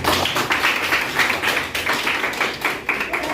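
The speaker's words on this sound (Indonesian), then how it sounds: "Tepuk tangan buat teman yang jawab." Students in a classroom clap together for a classmate, rhythmic bursts of hand claps in a fast regular pattern, close and loud, repeating for several seconds with no talking.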